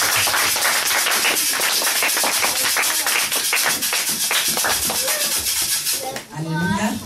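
A church congregation claps together in a dense, steady rhythm of loud, close handclaps, with voices rising briefly near the end.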